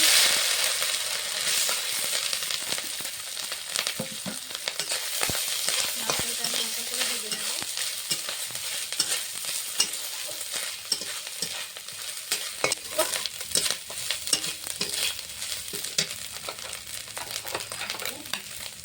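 Grated coconut and green chili fry in a spiced tempering for a taro-leaf dish with peanuts: a steady close sizzle with frequent scraping and clinking of a spatula stirring the pan, and no voices.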